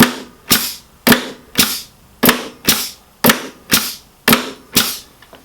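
A Senco Finish Pro 18MG brad nail gun fires in bump-fire mode: ten sharp, loud shots at a steady, roughly half-second rhythm, each with a short decay, and no talk.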